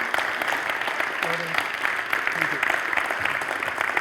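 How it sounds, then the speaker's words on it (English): Applause from an audience at an event in the Netherlands about work in Ghana, steady and moderately loud with some voices and calls blended in. "keep the applause going"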